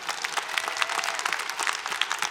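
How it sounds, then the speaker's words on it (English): Steady applause from a large audience at a university winter commencement ceremony, dense and continuous throughout. "Applause, please."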